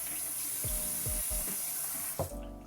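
Tap water runs steadily over LECA clay balls being rinsed, a continuous hiss of flowing water with a few soft knocks and clatters beneath it.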